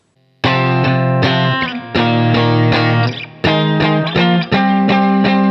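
Distorted electric guitar plays a heavy riff slowly, in loud sustained power-chord stabs with short gaps between them, close and without talk.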